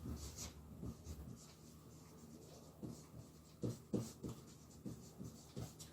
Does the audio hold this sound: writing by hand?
yes